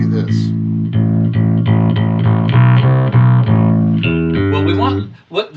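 Electric guitar played through a Tech 21 Sansamp Programmable distortion pedal, a loud, thick, overdriven riff of repeated sustained chords and notes ending on a fading ring.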